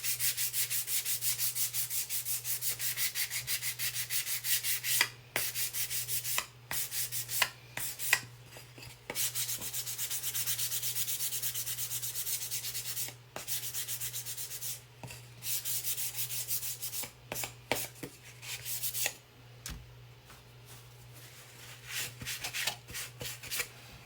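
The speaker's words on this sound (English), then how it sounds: "I just sanded around the top of there just to make it a little bit more rustic." Someone hand-sands a wooden pumpkin with short, scratchy rubbing strokes in irregular bursts and pauses. The strokes are close and fairly quiet over a low, steady hum.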